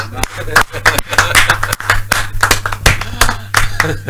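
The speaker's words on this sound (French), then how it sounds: "Bien, on va applaudir." An audience claps along during a French-language television broadcast, with sharp, irregular bursts of hand claps of uneven loudness mixed with voices and a steady low hum throughout.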